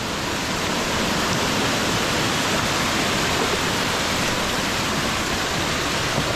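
Kuttalam waterfall in Kollam, a steady, dense rush of falling water roaring close and loud without a break, with no voices over it.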